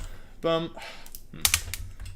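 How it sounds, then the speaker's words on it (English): Computer keyboard keys are clicked and pried, with a few sharp plastic clacks in a quiet indoor room, close by. A short spoken or vocal burst comes early, followed by faint scattered taps. "I just popped some keys off my keyboard."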